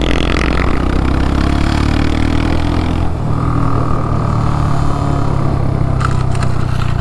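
Royal Enfield motorcycle engine on a dirt flat track, loud and continuous close up, its pitch rising and falling as the rider opens the throttle through a tight corner, with no talk.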